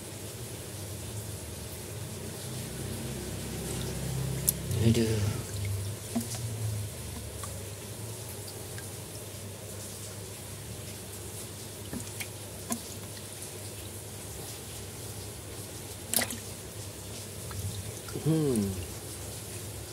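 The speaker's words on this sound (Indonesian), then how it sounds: "Nyampe rumah beneran hujan gede teman-teman." Heavy rain pouring down outside a house: a steady, dense wash of noise that holds through the whole stretch, with a couple of brief murmured voice sounds over it.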